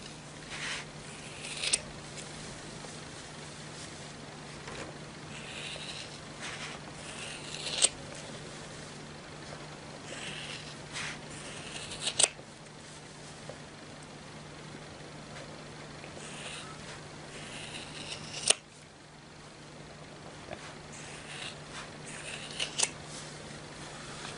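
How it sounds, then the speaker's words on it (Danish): Scissors snip through wool yarn on a Schachenmayr pompom tool, with sparse, crisp cuts and small rustles spread over a long stretch above a faint steady hum. "der skal vi så lige have saksen ind i buen her og klippe op"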